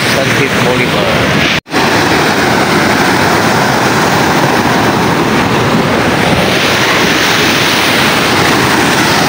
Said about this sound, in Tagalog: Oh, grabe ng alon sa Boulevard guys.